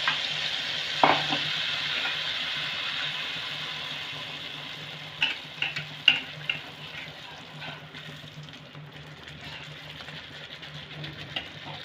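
Rice flour malpua fry in hot oil, a steady close sizzle that starts loud and slowly quietens, broken by a few sharp utensil taps and clinks near the middle.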